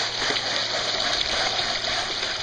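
Water gushes steadily through a milk crate gold sluice at a prospecting site, a constant rushing wash with no talking.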